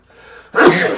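One loud, close sneeze bursts out after a brief, quiet intake of breath.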